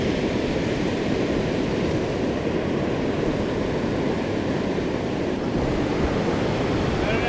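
Ocean surf rolls in steadily on the Oregon coast during surf fishing for perch, a loud, continuous wash of breaking waves mixed with wind buffeting the microphone.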